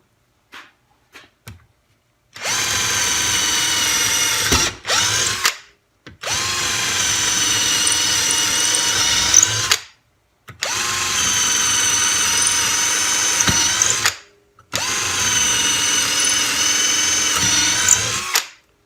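A SnapFresh 20V cordless drill with a large bit whirs at high speed in four long bursts, each several seconds, with brief pauses and clicks between them, loud and close.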